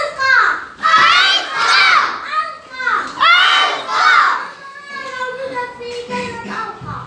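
A second-grade class of children cheering together in a loud chorus of rhythmic shouts and chants, coming in several strong waves before fading into quieter voices.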